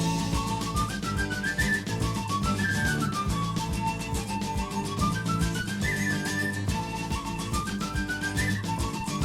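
A whistled melody rises and falls above a full rock band in a song from an album. The playing is steady and loud throughout, with no talk.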